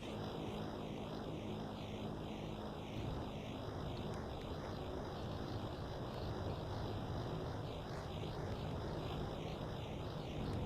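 A hover piston engine train built in the Plane Crazy video game, underpowered and climbing a hill, gives a steady, droning engine hum with a slow wavering pitch, continuous and unbroken throughout.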